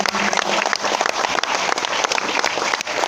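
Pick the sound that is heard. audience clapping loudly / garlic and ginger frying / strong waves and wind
audience clapping loudly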